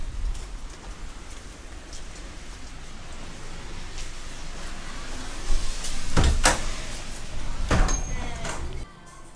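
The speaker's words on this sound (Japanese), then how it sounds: "しかしね、結構降ってる。" Heavy rain falls steadily outdoors as a soft continuous hiss, broken by a few sharp clunks and knocks near the end.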